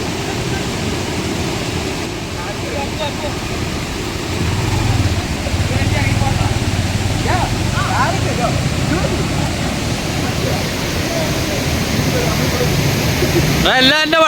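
Floodwater overflows and rushes through a Kerala plantation after heavy rain, a loud, steady broadband roar of flowing water throughout, with a brief sharper sound near the end.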